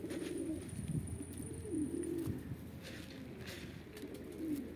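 Soft, low cooing of a Van pigeon repeats in throaty rolling phrases, close by, over a faint background hum and occasional light rustles.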